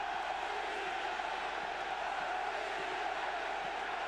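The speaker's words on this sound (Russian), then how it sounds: "Шведские болельщики радуются" Swedish supporters roar from the stands of a bandy world championship final arena after their team takes a 1-0 lead, a broad, steady crowd din held for a few seconds with no clear voices on top.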